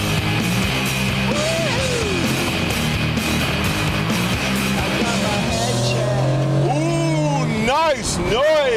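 A Vector M12 supercar being driven hard on a track, its engine note climbing and falling through the revs and gear changes. The car sounds loud and close, with rising tonal sweeps toward the end as it passes.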